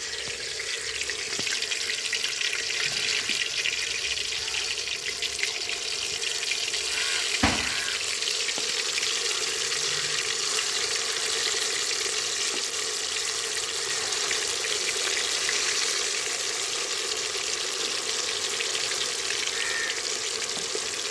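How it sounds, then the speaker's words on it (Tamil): Kilangaan fish coated in a simple masala of chilli powder, fennel, cumin, ginger-garlic and pepper, frying in hot oil: a continuous hissing sizzle like running water, steady and close, with one brief clatter, no voices. "எண்ணெய் நல்லா காஞ்சிருச்சு. மீன் சேர்த்துக்கலாம்."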